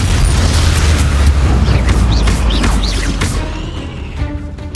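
Incendio fire spell cast in Hogwarts Legacy, a loud whooshing, roaring magical blast with booming crackle, dense and close, fading slightly near the end amid game sounds.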